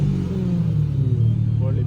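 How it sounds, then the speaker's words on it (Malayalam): Car engine with a full aftermarket exhaust system revving briefly, a loud, deep bassy rumble close by that rises slightly in pitch, mixed with people talking over it. "ഇതിലും എക്സോസ്റ്റ് അടിച്ചിട്ടുണ്ട്."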